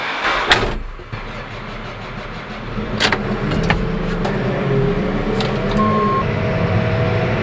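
A car door thuds shut a couple of times, then an engine turns over and settles into a steady idle that continues throughout.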